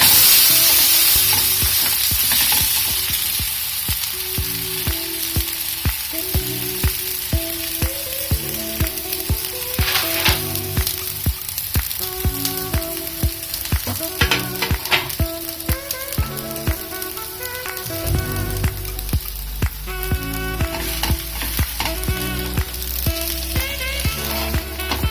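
Rava uttapam fries in oil on a pan with a steady, close sizzle throughout, broken by occasional scraping and stirring taps, with a deeper crackle building toward the end.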